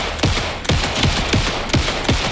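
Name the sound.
gunfire in a video game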